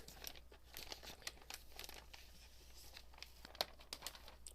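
Plastic protective film peels off the packaging of a new late-2013 13-inch MacBook Pro, heard as close, quiet crinkling and tearing in irregular bursts with one sharper crackle near the end.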